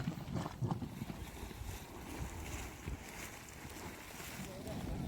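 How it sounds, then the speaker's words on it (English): Boiling water churning and bubbling in a Yellowstone hot spring in a volcanic landscape, a steady rough wash of low rumbling noise heard close by with wind buffeting the microphone throughout. "The bubbles, boiling water."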